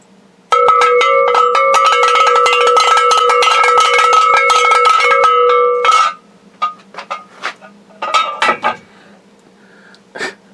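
A homemade cowbell fitted with a Huber brake is struck in a fast, loud, ringing run for about five seconds, then a few scattered, fainter hits follow.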